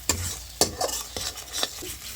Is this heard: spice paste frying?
yes